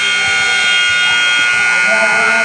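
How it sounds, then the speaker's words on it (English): A loud, harsh electric buzzer blares continuously in a women's college basketball gym, a steady tonal drone held across the whole stretch with faint crowd and voices underneath. "Man, they got to fix that buzzer"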